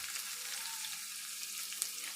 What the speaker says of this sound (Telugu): ఈ ఎల్లిపాయలు కూడా కొంచెం ఈ దంచుకున్నది తాలింపుకు వేసుకోవాలి